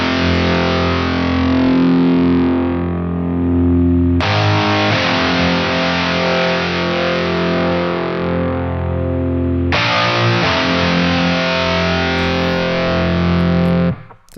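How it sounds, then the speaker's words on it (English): Heavily distorted electric rhythm guitars strum a few sustained chords, each ringing out for several seconds before the next one hits, loud and dense with no voices. "Then after that I have the rhythm guitars."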